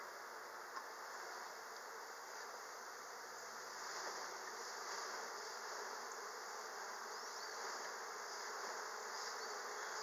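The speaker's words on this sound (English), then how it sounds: "So what I'm going to do is I'm going to brush all these bees" Honey bees drone steadily in an open hive crawling with small hive beetles, a dense, continuous buzz that stays close and even throughout, with no voices over it.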